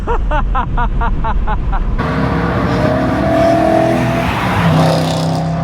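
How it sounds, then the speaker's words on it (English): BMW E92 M3 driven hard: a rising, revving engine note through quick gear changes, then a loud sustained roar with tyre squeal, close and aggressive. "we gotta drive it like an M3 should be driven"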